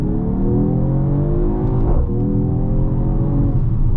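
Mercedes-AMG GT53 four-door in Sport Plus mode, its engine note climbing steadily under acceleration with a louder exhaust, continuous and close throughout.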